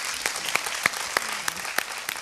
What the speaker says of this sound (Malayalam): അമ്മ അച്ഛനൊരു വലിയ കൈയടി കൊടുക്കാം